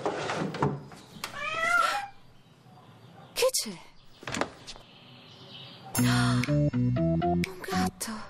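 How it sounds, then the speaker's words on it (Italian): A cat gives a couple of short meows amid sparse background noises, followed by a bright musical sting of several tones. "Un gatto."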